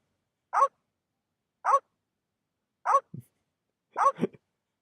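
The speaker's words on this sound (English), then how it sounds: "Oh, the little piranha poodles. Deadly piranha poodles." Piranha poodles barking in The Secret of Monkey Island video game: short, evenly spaced single yaps, then a final doubled bark, each one crisp and separated by silence.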